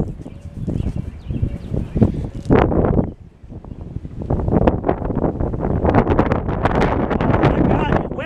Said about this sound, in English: Oh my God, wind! God, help me, the wind!